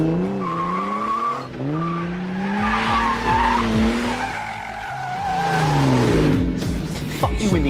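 A McLaren 650S Spider screeches its tires in a long, wavering squeal with engine revving underneath, close and loud throughout.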